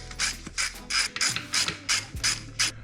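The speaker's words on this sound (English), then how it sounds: "So I'm just bolting it down." Ratchet wrench bolting down an engine mount during a Honda Integra B18 engine swap into a Civic, about nine quick, even clicking strokes close by with no talking.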